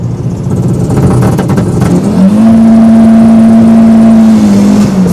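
A high-horsepower Volvo T5 mail truck engine drones loudly from inside during a rolling launch, then settles into a strong, steady pull with a sustained tone before easing off near the end.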